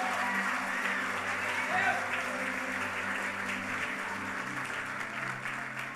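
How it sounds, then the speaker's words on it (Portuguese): A church congregation applauds the name of Jesus during a sermon, steady clapping sustained across the whole stretch beneath a held musical tone, with a voice speaking over it. "Se você crê nisso, aplauda mesmo o nome de Jesus."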